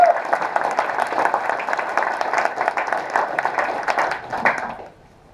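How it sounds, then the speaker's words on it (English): A conference audience applauds a speaker, Agnieszka Szóstak, as she is introduced: steady, dense clapping from a crowd that holds loud and even for about four seconds, then fades out quickly. "So let's give a round of applause to Agnieszka."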